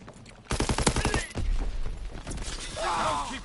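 Gunfire in Call of Duty WWII multiplayer, with a fast burst of automatic shots in a rapid rhythm, then scattered battle noise and game voices, fairly loud and close.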